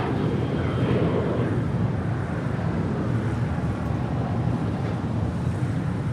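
A United Boeing 737-800 bound for Denver takes off from Los Angeles International Airport, a steady, loud broadband jet roar with heavy low rumble and wind buffeting, sustained evenly throughout with no voices.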